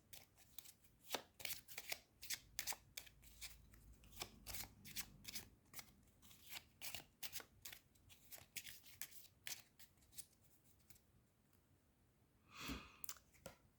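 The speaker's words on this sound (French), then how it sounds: "Je reprends la pioche péril que je mélange." Peril card deck of the solo board game Vendredi being shuffled by hand, a quick series of crisp riffling snaps, close and fairly quiet, with no talk.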